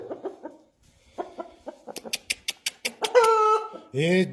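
Chicks peep in quick high chirps, a rapid run of short calls followed by longer, louder cheeps, close by.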